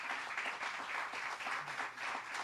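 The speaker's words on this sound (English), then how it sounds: "And let's give them a round of applause for what they do." A gathering at a COVID-19 vaccine vial manufacturing plant gives a round of applause, a steady faint patter of many hands clapping, somewhat distant, with no talking.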